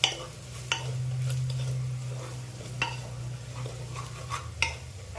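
Spices being stirred and mixed in a pan for Khandeshi masala khichdi, with a steady low hum beneath soft scraping and occasional sharp utensil taps against the pan, close and fairly quiet, no talking.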